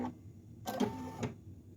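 An embroidery machine stitches trace lines around a design in the hoop, a short burst of rapid mechanical whirring and needle tapping lasting about half a second over a quiet motor hum, close and fairly soft.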